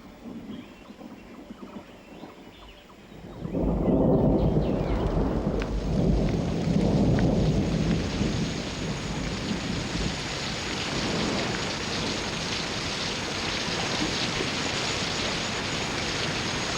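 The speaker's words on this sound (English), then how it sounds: "Heavy rains sweep these forests, removing the soil and its nutrients." Heavy rain pours over Borneo rainforest while thunder rumbles: a quieter wash suddenly swells into a loud roaring downpour with deep rolling booms, then settles into a steady dense hiss.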